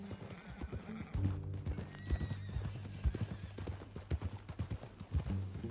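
Horse hooves clip-clop in the video game Red Dead Redemption 2, with a horse neighing and whinnying nearby amid game ambience and faint voices.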